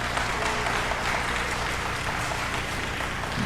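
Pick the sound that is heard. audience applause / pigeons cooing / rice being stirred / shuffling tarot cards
audience applause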